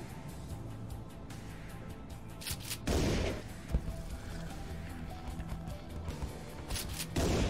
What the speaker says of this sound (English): Let's just shoot with our shotgun for now.